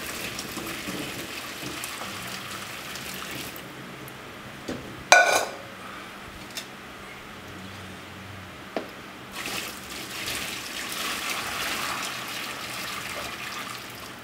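Boiling water splashes and trickles steadily into a container, with a brief clatter partway through and a continuous pouring wash throughout.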